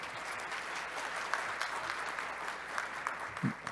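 Applause from an audience at a panel on administrative law, a steady wash of clapping at moderate distance, with a few sharper claps and a brief voice near the end.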